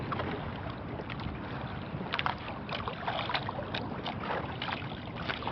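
Strong wind sweeps across open sea around a small paddled fishing boat, a dense, continuous roar and buffeting on the microphone with faint water splashes mixed in. No one speaks.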